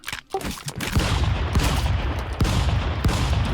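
Shotgun blasts in the video game Stick Fight, a rapid series of sharp gunshots close and loud over a busy noisy background, with several distinct cracks spaced roughly every second.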